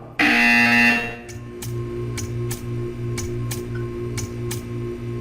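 In the video game Portal 2, a short loud buzzer sounds at the start, followed by a steady low mechanical hum and a series of sharp, evenly spaced ticks.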